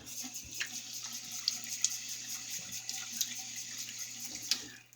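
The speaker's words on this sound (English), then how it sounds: "So let me go ahead and wet my face." Tap water runs steadily into a sink as a man wets his face before shaving, a continuous close splashing hiss with small irregular splashes and drips throughout.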